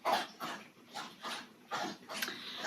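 A dog named Maze laps water in a series of rhythmic wet bursts, about six laps spaced roughly every half second, close and fairly soft.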